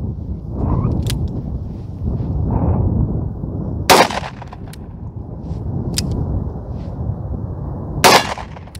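Two loud, sharp gunshots outdoors, probably from a .44 Special handgun, a few seconds apart, each followed by a short echo over steady wind and background rumble.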